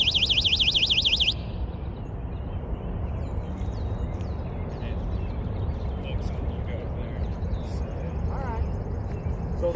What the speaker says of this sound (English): So now you know what the alarm sounds like.